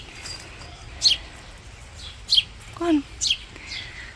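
Injured baby sparrow giving a few thin, high chirps spaced out over several seconds, faint and close, while a person speaks softly.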